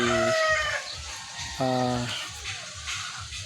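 Several chickens cluck and squawk nearby in short bursts in a backyard chicken pen, with a louder drawn-out call partway through, over a steady outdoor background.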